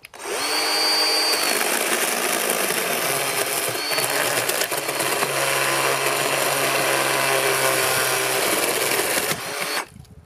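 A new chainsaw runs at a steady, loud, high-pitched whine for about nine seconds, then cuts off sharply, with no talk over it.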